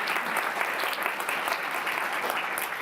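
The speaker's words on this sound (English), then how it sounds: "Now we get to give you another round of applause." Dense audience applause at a panel conversation event, a continuous even roar of many hands clapping at a moderate, steady level.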